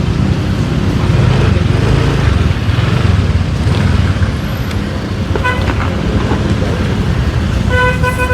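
A car passes close by on a busy street in Bangli Margakaya, over constant loud traffic rumble, with short horn toots near the end.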